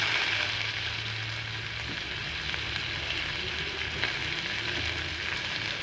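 Finely chopped medium onion frying in a teaspoon of oil with crackled cumin seeds, a steady close hiss of sizzling with faint occasional ticks, no voices heard.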